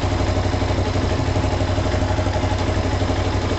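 A Chinese 250 dual sport motorcycle with a Mikuni VM26 clone carburetor idles steadily at 1500 RPM, loud and close. The engine gives an even, continuous low rumble with no speech.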